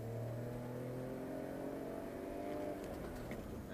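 A BMW X5 engine winds up under hard acceleration at high road speed, its rising revving tone steady and sustained beneath road and wind noise.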